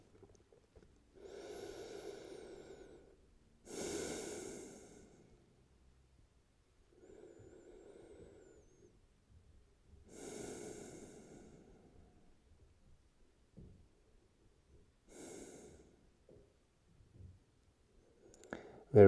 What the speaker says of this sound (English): Take a breath in and out.